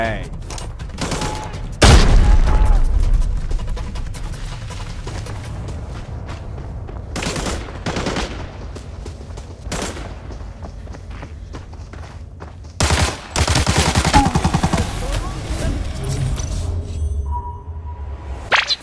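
Gunfire in the video game Arena Breakout rings out in sharp bursts and rapid volleys, loud and close, with pauses between shots and quieter movement sounds in the gaps.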